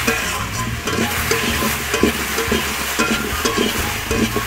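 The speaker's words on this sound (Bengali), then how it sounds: "এখন আমি একটু জল দিয়ে দিচ্ছি, আর লঙ্কা গুঁড়ো দিয়েছি, তেল কম দিয়েছি, তো লঙ্কা গুঁড়াটা পুড়ে যাবে," Chili powder frying in a little oil in a pan with water just added, giving a loud, dense, steady sizzle with scraping stirring strokes throughout and no voices.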